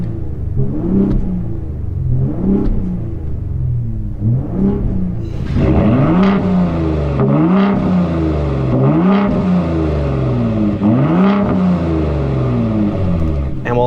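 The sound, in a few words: Ford F-150 Raptor engine driving in Baja off-road mode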